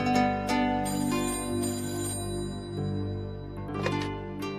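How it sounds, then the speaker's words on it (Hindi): An indoor phone rings with a repeated electronic melodic ringtone, several bursts of tonal chiming close by, with no talking over it. "अब फोन उठाएगी बहुरिया?"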